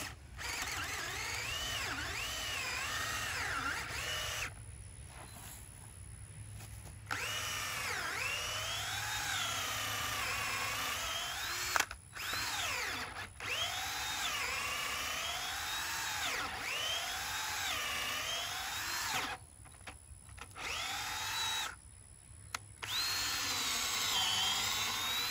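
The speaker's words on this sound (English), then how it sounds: "So we're gonna go ahead and drill that one first." Power drill boring a hinge hole in a gate brace post outdoors, whining in long sustained runs with pitch shifting under load and brief pauses between bursts, fairly close and moderately loud.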